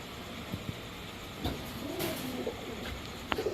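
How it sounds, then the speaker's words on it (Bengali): Racer pigeons cooing at a bird seller's stall, a few soft, low coos and wing rustles heard fairly close against a faint background hum, with no talking. "3 কালারে 3 জোড়া রেসার কবুতর দেখেন"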